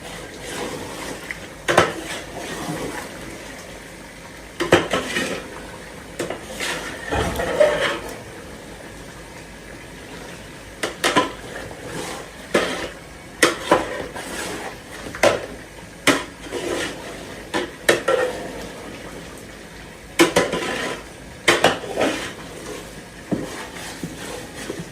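A spoon scrapes and clanks against a cooking pot while chopped potatoes are stirred, giving irregular metallic knocks over a steady background hiss, close and moderately loud.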